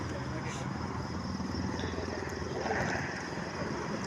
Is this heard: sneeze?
no